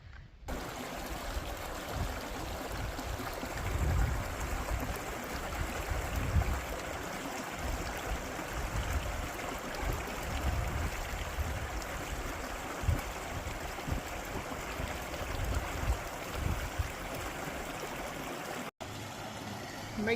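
A creek flows along a Pacific Crest Trail hiking route, a close, continuous burble and trickle of water with low thumps and handling noise mixed in, lasting the whole stretch.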